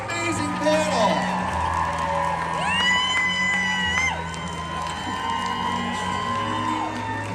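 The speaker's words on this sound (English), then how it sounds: "one more big round of applause for an amazing panel" A crowd at the 90s Con 2025 Scream panel cheers, whoops and shouts loudly and continuously, with voices rising and falling throughout.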